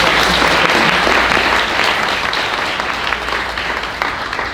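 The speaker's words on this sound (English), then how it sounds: "please give Gypsy a round of applause as well." Loud, dense applause from an audience at a leadership commencement ceremony, sustained clapping that fills the whole stretch and eases slightly toward the end.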